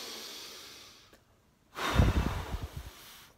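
A child-friendly breathing exercise: a soft inhale through the nose, a brief pause, then a strong, close exhale blown out forcefully like blowing out a candle, with no talking.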